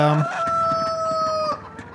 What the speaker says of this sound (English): I'm also going to kill the chicken, I think. The rooster thing.